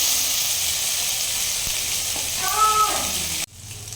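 Ginger paste goes into hot oil already holding whole spices and cumin, giving a loud continuous sizzle and hiss with a rising tonal squeal that cuts off abruptly near the end.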